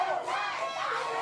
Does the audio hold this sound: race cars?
no